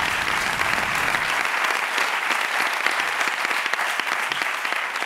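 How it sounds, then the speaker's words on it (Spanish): Audience clapping on a late-night comedy talk show, a dense, even burst of applause sustained for several seconds without speech. "Un aplauso para ese mono, joder."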